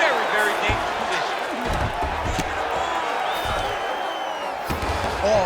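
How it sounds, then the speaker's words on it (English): Crowd roars and cheers from the arena in the UFC 5 video game as the fighters get back to their feet, a steady, dense swell of cheering under game sounds, with a commentator talking over it. "huge pop from the crowd as the fighters get back up to their feet"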